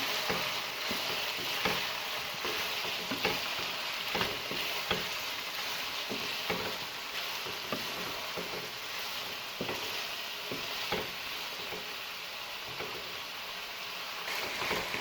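Capsicum and spring onion stir-fried in a hot pan for chicken fried rice, a steady close sizzle with repeated scraping strokes of a spatula at an uneven rhythm, continuous for the whole stretch with no talking.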